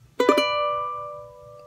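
A single short charango phrase: one plucked note then a repeated note struck twice in quick succession, bright strings ringing on and slowly fading, close and alone, from a tutorial.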